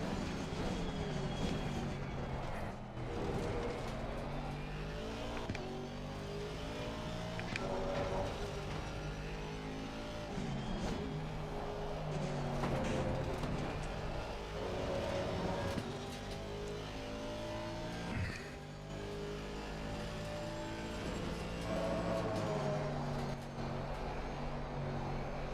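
Race car in a sim racing game lapping Kyalami, its engine roaring steadily with repeated rising pitch sweeps through the gears and brief dips on downshifts, loud and continuous throughout with no talk.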